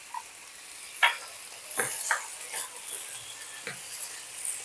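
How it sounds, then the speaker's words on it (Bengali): Spinach and mixed vegetables with grated ginger are stirred in a hot pan, giving a soft sizzle broken by several distinct scraping stirs at irregular intervals, close and fairly quiet. "সমস্ত সবজি ভালো করে কষিয়ে নেবো"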